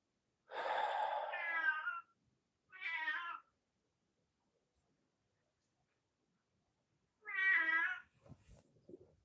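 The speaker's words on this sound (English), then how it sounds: "I'm really annoyed with that cat." A cat meows three times nearby, a long drawn-out yowl, a shorter call, then another long meow after a quiet gap, with soft breathing noises at the end.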